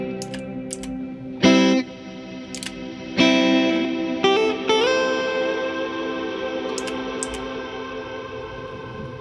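An electric guitar played through a reverb effect: sharp struck chords and single notes ring out, each leaving long, washy sustained tails that decay slowly, with quiet gaps between phrases.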